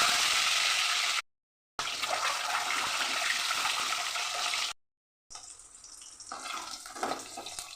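A boiled egg rubbed with salt and turmeric fries in hot mustard oil, a steady hissing sizzle that cuts out briefly twice, then a quieter, uneven spatter of frying.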